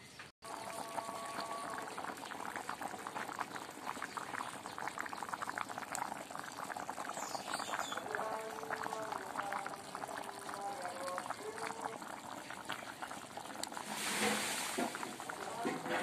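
Chicken bhuna curry bubbles in a covered pot, a steady close hiss and burble of simmering that runs throughout, with a few faint tonal sounds and a brief louder rush near the end.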